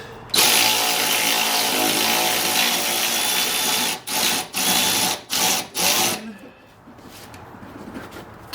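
A Milwaukee power tool loosens strut mount nuts on a 2014–2020 Ford F-150, running in a loud continuous whine, then pulsing in four short bursts before going quiet under low background noise.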